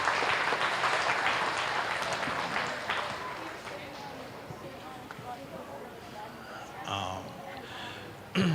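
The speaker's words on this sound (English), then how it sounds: "Let's give these kids a round of applause for bringing these heifers out." Audience at a junior beef show clapping for kids showing heifers, a dense burst of applause that tapers off gradually, with a voice talking over it near the end and faint arena noise.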